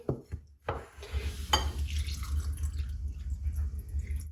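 Water poured over soft dates in a bowl to soak them, a brief splash and trickle near the start followed by a low steady rumble of running liquid.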